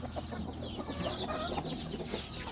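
Many chickens cluck continuously at moderate distance, a busy overlapping chorus of short calls with no talking.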